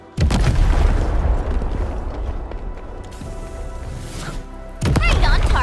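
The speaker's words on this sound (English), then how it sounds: "I give that explosion a 10 out of 10" Explosions go off in the video game Arknights: Endfield, opening with a loud close boom that rumbles into a long decaying tail before a second heavy blast near the end.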